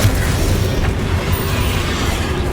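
A Confringo fire spell blasts in Hogwarts Legacy, a loud, dense, rumbling explosion that roars continuously for a couple of seconds with no pauses.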